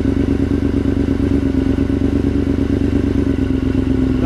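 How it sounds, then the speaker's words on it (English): A Yamaha R6 sport motorcycle idles close by with a steady low throb and light mechanical clatter as the clutch is slowly let out, holding an even engine note throughout with no talking. "I'm going to slowly let the clutch out. The bike is eventually going to start moving"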